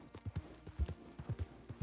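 Horse hooves clip-clopping while riding in a video game, a quick uneven trot of soft, close thuds in paired beats, fairly quiet and with no voices.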